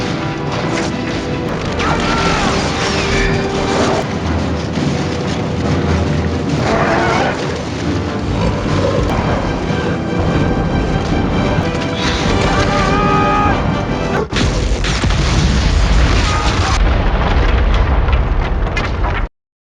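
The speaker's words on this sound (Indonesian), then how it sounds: "Saruman juga memiliki senjata, dan kali ini adalah peledak yang mampu meruntuhkan tembok Helm's Deep." An explosive blast breaches the fortress wall of Helm's Deep in a battle film, heard as dense, loud, continuous crashing and rumbling chaos with booming impacts and a dense orchestral score throughout.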